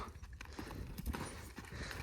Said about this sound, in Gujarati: ઋતુભાઈ ઘોડી માથે જો ચડવા નથી દેતી